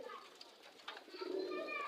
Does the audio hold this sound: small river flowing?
no